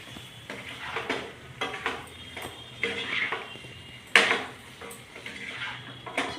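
A spoon stirring mutton with gongura leaves in a hot pan, repeated clinks and scrapes against metal in an irregular rhythm over a soft sizzle, with one sharper clank partway through.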